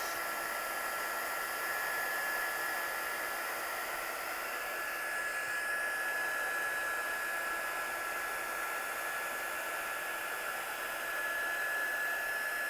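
Heat tool blowing hot air to melt embossing powder into a shiny finish at a craft studio, a steady, loud broadband whoosh with a faint high whine, running continuously alone without talk.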